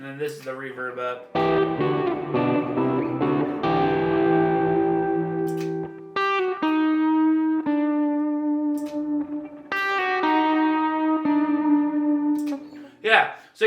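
Electric guitar played through an HX Stomp pedalboard with reverb turned up, sustained chords and single notes ringing out with a long, washy tail layered over delay and drive, loud and close.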